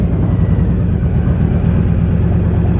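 A Honda motorcycle engine runs after a jump start, producing a loud, steady, close rumbling idle that holds evenly throughout with no one talking.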